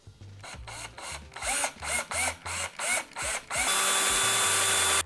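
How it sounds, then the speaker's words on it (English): A drill whirs in a series of short bursts with brief gaps between them, drilling pilot holes in a kayak for a flush mount rod holder, then settles into one longer continuous run near the end. "drill these pilot holes"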